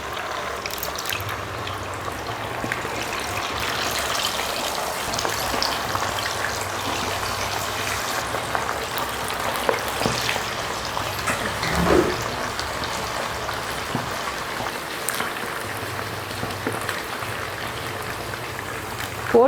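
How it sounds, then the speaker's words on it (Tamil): Marinated whole quail frying in hot oil, a steady, dense crackling sizzle with small pops throughout, moderately loud and continuous. "காடையை பொரிச்சிக்கலாம்."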